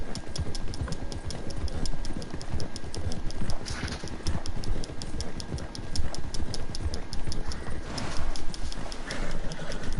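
Galloping horse hooves in the Red Dead Redemption 2 video game pound in a fast, steady, continuous rhythm, loud and close throughout.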